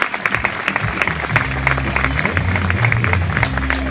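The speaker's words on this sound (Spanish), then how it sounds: "Un fuerte aplauso para Manu." Audience applause for a performer at a summer cultural event, lively clapping with distinct hand strikes, set over a low musical drone and bass tones.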